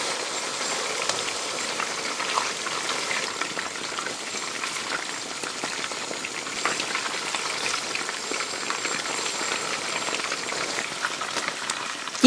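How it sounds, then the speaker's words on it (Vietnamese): Chicken pieces frying in hot oil until golden on both sides, a steady dense crackling sizzle that holds evenly throughout with no voices. "Chiên giòn vàng đều hai mặt như vậy là được rồi nè các bạn"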